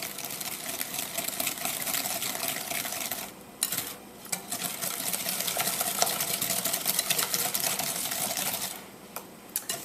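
Eggs and sugar being whisked in a bowl, a rapid continuous clicking and scraping with brief pauses, close and moderately loud.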